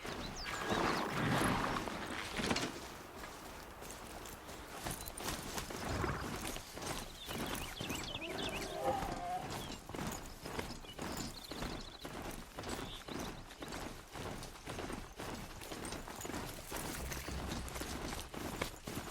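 A machine horse mount galloping in Horizon Zero Dawn, a steady, rapid rhythm of hoof clops mixed with clanking mechanical whirs, moving continuously and fairly close against an ambient game backdrop.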